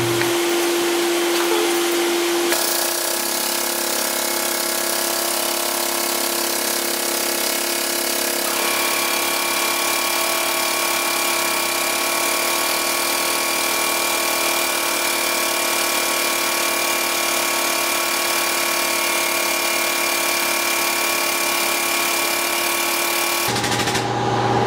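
A tube bender works a length of tubing at the die, with a steady mechanical drone and whine that holds for about twenty seconds, changes pitch partway through, then cuts off.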